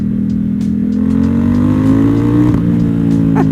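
A Yamaha R1M motorcycle engine drones loud and steady from close by, its pitch climbing smoothly under acceleration, with wind rush over the top and no voices.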